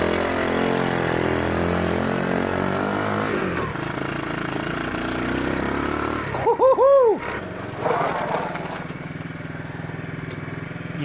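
A motorcycle fitted with a swapped engine runs on its first ride, idling steadily up close, then revving in short bursts with a rising and falling pitch before settling back to a rough idle.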